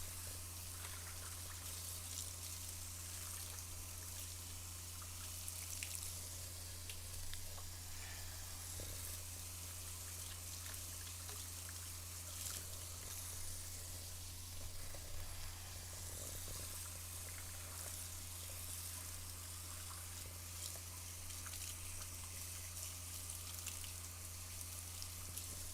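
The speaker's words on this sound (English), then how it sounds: "I'm rinsing off the marinade because I'm going to be putting glaze on them" Tap water runs in a steady, even hiss over inch-thick pork chops as marinade is rinsed off them, with a low background hum and no talking.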